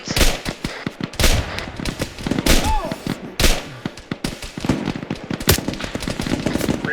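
Rapid bursts of automatic gunfire and sharp shots crackle through a tactical military video game firefight, loud and near, in repeated volleys across the whole stretch with brief pauses between.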